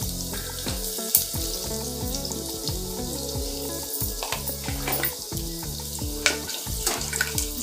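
Two crushed garlic cloves sauté in hot oil in a pan, giving a steady close sizzle broken by repeated scraping stirs and a few sharp clinks.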